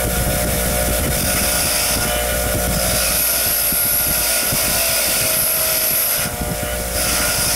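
A buffing wheel spins steadily against a Hot Wheels car during a restoration, a loud, continuous whirring drone that holds for several seconds with slight dips near the end.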